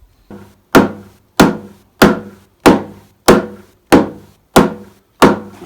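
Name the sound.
homemade firewood peg mallet pounding a wooden peg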